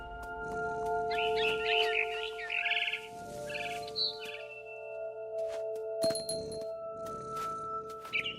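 In the video game FinchGame, a barn swallow gives quick bursts of bright chirps and twitters. The calls come in a cluster early on and then thin out into a few short notes over steady sustained background tones.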